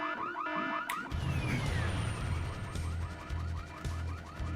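In the Full Throttle video game, an electronic alarm blares continuously with rapid warbling, repeating tones, loud and steady after a brief opening burst.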